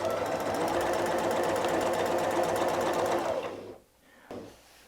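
Sewing machine stitching during ruler-work quilting of a dahlia pattern, a fast steady mechanical chatter running continuously for several seconds before stopping, followed by a short low rumble and quiet.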